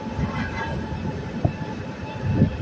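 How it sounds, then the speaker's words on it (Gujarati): The HimSagar Express train rumbling along at close range near Ernakulam Junction after rain, steady low roar of wheels on rails with occasional clanks and rattles. "ટ્રેન જાય છે."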